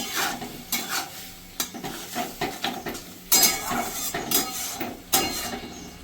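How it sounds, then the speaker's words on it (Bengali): Spice paste with turmeric sizzles in a pan while a spoon stirs it, giving repeated scraping strokes and clinks over a steady frying hiss, close and moderately loud with no talking. "মশলাটাকে একটু কষে নেব"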